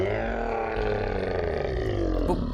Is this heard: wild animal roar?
yes